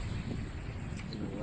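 Steady wind roars and buffets across the microphone aboard a sailboat making about six knots on a flat sea during a coastal cruise from La Ciotat to Menton, a constant broadband rumble with faint voices beneath it.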